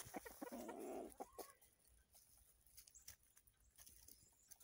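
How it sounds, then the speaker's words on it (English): Chickens cluck and chatter close by, with a burst of squawking early on and then softer, scattered clucks and light scratching sounds. "Chickens are so much fun"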